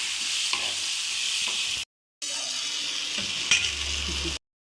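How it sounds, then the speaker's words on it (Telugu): Fried bitter gourd pieces being stirred with tomatoes in a hot pan, a steady loud sizzle with scraping stirs, broken by a brief silent gap before frying resumes. "ఇలా టమోటాలు కొంచెం సేపు వేగిన తర్వాత ఇంకా ఫ్రై చేసుకున్న కాకరకాయలు వేసేసుకోవాలి"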